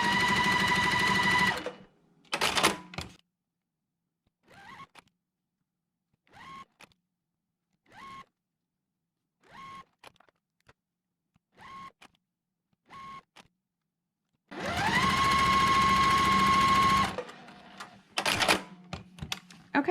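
A sewing machine whirs in quick bursts, several short stitching runs separated by pauses, then a longer steady run, fairly close and loud.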